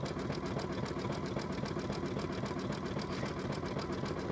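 A sewing machine stitching, a steady fast mechanical whir and rapid even ticking that runs unbroken and close throughout.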